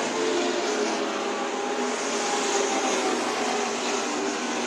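Race cars at Kern County Raceway during a Spears Tour event make a continuous broad engine roar, steady and loud, with no separate pass-bys standing out.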